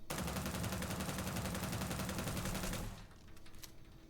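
A Ryujin Compact weapon from Starfield fires in a fast continuous automatic burst lasting about three seconds, dense and loud, then cuts off into a faint tail.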